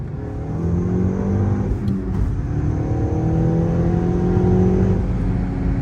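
A Mk6 VW GTI with a Stage 2 clutch pulls hard from about 38 mph, its engine droning steadily with rising harmonic whine under load, loud and close throughout with no speech.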